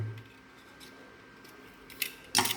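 Utility knife blade scoring material on a laptop Wi-Fi card, a few short scraping cuts near the end, close and fairly quiet, with soft handling noise before them.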